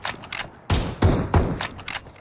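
Winchester 94 rifle shots in the BGMI mobile battle royale game, several sharp loud reports spaced a fraction of a second apart amid background game noise.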